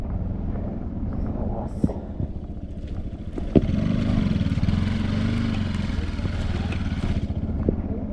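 Several motorcycles lined up on a stony hill road idle together, a close, rumbling engine drone that swells louder partway through, with some clatter and a few short bumps mixed in.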